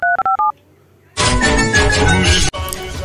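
A telephone number is dialed: several short, crisp keypad tones beep in quick succession, followed by a loud burst of clattering, noisy sound and then a brief break.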